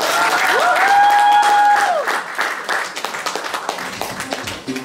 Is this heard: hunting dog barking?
no